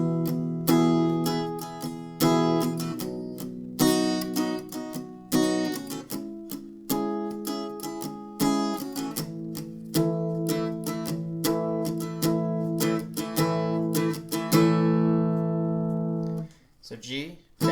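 An acoustic guitar strums a verse chord progression in a steady down-up rhythm, with ringing chords changing throughout, close and clear, ending with a brief muted strum.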